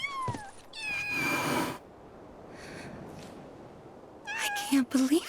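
Kittens meowing in Final Fantasy VII Rebirth: several short, high mewls close by, in two bursts with a quiet gap between, and soft snuffling sounds at the end.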